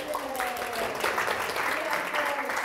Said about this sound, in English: Everyone give Sue a round of applause.